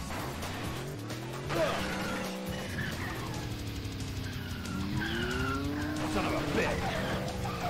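A cow moos in a video game, drawn-out low bellowing calls over a continuous revving car engine and skidding tyres, all fairly loud and steady throughout.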